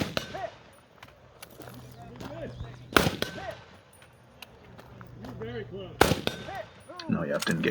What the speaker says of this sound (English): It's always fun shooting old rifles on a VTAC